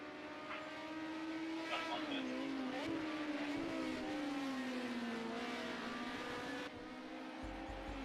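Race cars in a wet-weather racing game round at Hockenheim, engines droning steadily and shifting pitch as they pass, loud and continuous with a brief tyre squeal.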